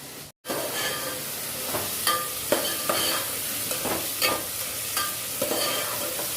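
Onions sauté in a pan for Tirunelveli-style chicken curry, a steady close sizzle with intermittent scraping stirs and clinks of a spoon against the pan, after a brief silent gap at the start.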